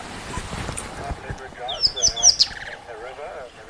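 A rattling cisticola, a small chatty bird, gives a quick run of sharp, high chirps midway through, close and fairly clear, with a voice speaking softly around it.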